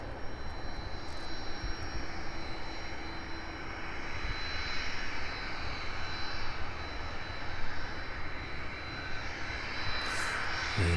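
An aircraft arriving to land at East Midlands Airport, its engine roar steady and broad throughout, moderately distant and continuous with no talk.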